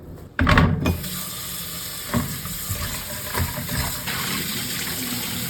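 Running tap water splashes over a piece of meat being given a first wash for Jamaican stew peas, a steady close rush broken by a few handling knocks and splashes, with no talking.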